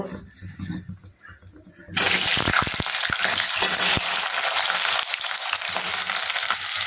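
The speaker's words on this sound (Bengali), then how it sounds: "তেলটা গরম হয়ে গেছে, আলুগুলো দিয়ে দেব।" Potatoes drop into hot oil in a wok and start frying. A loud, steady sizzle bursts in after a quiet start and carries on close, with a few stirring clatters at the beginning.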